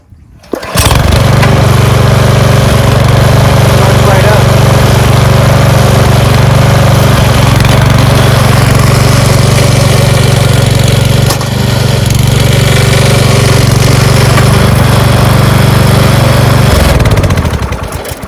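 A Troy-Bilt rototiller engine catches after a second and keeps running, a loud, steady, close mechanical drone with a brief dip midway before it cuts off near the end.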